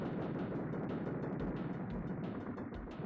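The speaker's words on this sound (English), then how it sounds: "He also gets the gunners with the rockets." A steady wash of arcade explosions and blasts as rockets hit gunners in the Super Smash TV video game, dense and continuous with no pauses and no talk.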